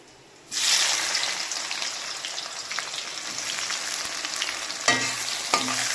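Onions fry in a pan for a chicken curry while potatoes fry alongside. A loud, steady sizzle starts suddenly after a moment of quiet and continues throughout, with a couple of utensil clinks near the end.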